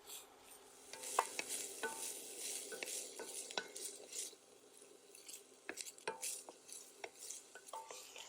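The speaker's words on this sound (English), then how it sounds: "I like to keep stirring the onions constantly throughout this process because I don't like them getting any char in this recipe." Onions stirred and sautéed in a pan while being softened for Italian sausage stuffed acorn squash, with a soft steady sizzle under repeated scrapes and clinks of a utensil against the pan, close and moderately quiet.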